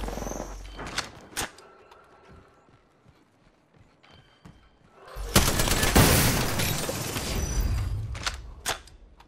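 Gunfire bursts from the video game Apex Legends: a few sharp isolated shots early on, a quieter lull, then a loud, sustained stretch of rapid firing with crackling impacts near the end.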